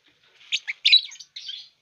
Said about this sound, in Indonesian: burung cukup energik ya uh, galak dia ada telurnya